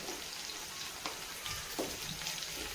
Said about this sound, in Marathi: आता मिरची थोडीशी फ्राय होईपर्यंत हलक्या हाताने आपल्याला हलवत राहायची.